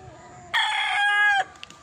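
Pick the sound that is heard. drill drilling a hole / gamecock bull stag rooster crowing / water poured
gamecock bull stag rooster crowing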